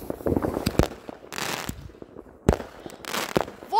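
New Year fireworks going off around a residential neighborhood, a dense string of sharp firecracker bangs and crackling bursts at varied distances, some close and loud, others more distant, in rapid irregular clusters.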